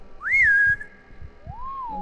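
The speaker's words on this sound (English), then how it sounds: "Why did it whistle?" A whistle in the horror game Backrooms Society Level 0: a rising tone that holds steady for a moment, then a softer, lower whistle that swoops up and down. Both are clear and sustained over a low background rumble.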